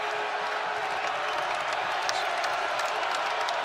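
A basketball crowd at a Florida Gators vs. South Carolina Gamecocks SEC game stands and roars, with steady dense cheering and applause filling the arena throughout.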